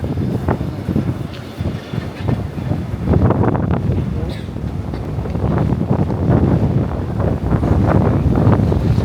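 Wind gusts buffet the microphone outdoors in Japan, a steady low rumbling roar that builds in strength, with faint voices talking underneath.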